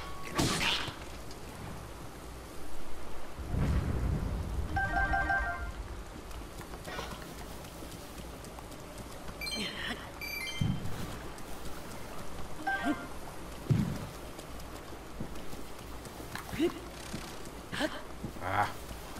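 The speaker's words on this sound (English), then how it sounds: "I'm not happy about the rain" Steady rain falls across the open world of Zelda: Breath of the Wild as a continuous hiss of drops, with someone talking over it at moments and no clear thunder.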